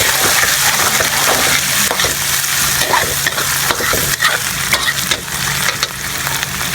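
A spoon stirs lomi ingredients such as wheat balls and fish in a hot pan, producing a loud, continuous sizzle with repeated scraping and clattering strokes close up.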